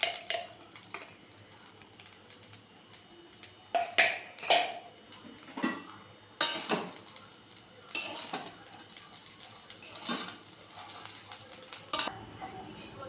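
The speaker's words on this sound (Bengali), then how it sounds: "আমি ঘি দিয়েই ভেজেছি ভাতটা" Rice frying in ghee in a pan, with a steady sizzle broken by repeated clinks and scrapes of a utensil stirring against the metal, close and moderately quiet, no talking.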